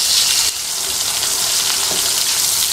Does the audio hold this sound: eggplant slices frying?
yes